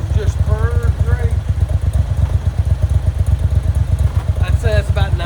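A 1990 Moto Guzzi California III motorcycle engine idling steadily at about 900 RPM with a low, even chug throughout, with brief voices at the start and near the end.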